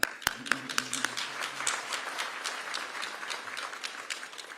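Audience applause at a Cincinnati mayor and city council swearing-in ceremony, opening with a few sharp individual claps that swell into steady, dense clapping from a sizable crowd.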